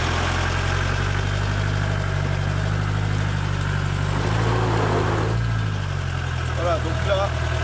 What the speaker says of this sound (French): la roue arrière droite ne tourne pas puisqu'elle touche le sol, celle-ci se décolle donc elle patine en l'air